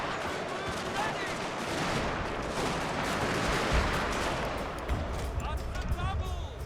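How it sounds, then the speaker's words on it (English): Enemy artillery fire during a video game battle, a dense continuous barrage of gunfire and explosions with rapid crackling shots and deep booms throughout. "We're just going to have to suck up the enemy artillery"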